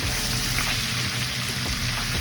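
Ginger stirred into jerk oxtail liquid simmering in a pan on the stove, giving a steady, dense sizzle and bubbling hiss that holds evenly throughout with no voices.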